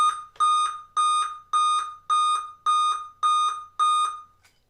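Eight identical sharp electronic beeps at a regular pace from a Dell Inspiron M5030 laptop error code at power-on, loud and close with no talking.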